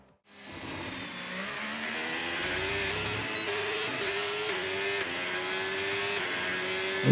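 Formula 1 cars lapping fast in qualifying at Circuit of the Americas; a continuous high engine whine rises steadily in pitch, loud and sustained, with no talk over it.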